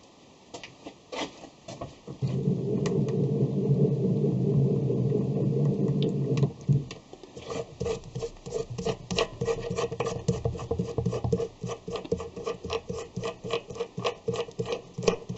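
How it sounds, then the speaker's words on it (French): Center drill cutting into a metal workpiece on a metalworking lathe, a steady grinding hum lasting a few seconds, followed by a series of light scraping taps and clicks. "un petit coup de forêt à centrer."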